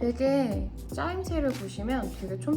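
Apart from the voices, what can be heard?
No everyday noises stand out.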